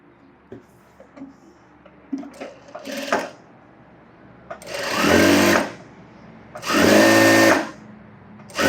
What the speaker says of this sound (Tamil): இப்போ இதே மாதிரி இன்னொரு பக்கம் தைக்கணும்ல அது மாதிரி நீங்களும் தைச்சிக்கோங்க